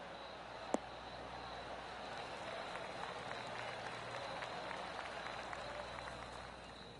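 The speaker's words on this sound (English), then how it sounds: "Oh, golf clap." Polite golf clapping from a virtual gallery in the video game PGA Tour 2K23 after a shot on the 12th hole, a steady wash of crowd applause held at even loudness, with one sharp click near the start.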